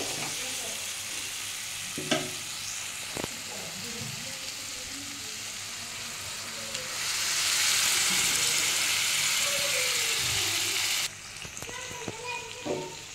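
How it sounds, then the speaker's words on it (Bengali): Spinach paste with coriander and chilli frying in a pan for palak paneer, a continuous loud sizzle with stirring scrapes that swells into a stronger hiss midway, then drops back with light clatter. "আমি এবার পালং শাকের পেস্টটা এর মধ্যে দিয়ে দেবো।"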